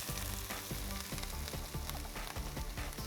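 Onions saute in a hot pan with a continuous crackling sizzle, broken by brief stirring scrapes. The sound stays steady and fairly quiet, with no talking.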